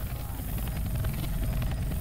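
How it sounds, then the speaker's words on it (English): Helicopter in the Left 4 Dead 2 video game passing overhead, a steady low rotor rumble filling the scene at fairly strong level beneath noisy game action. "There's a chopper."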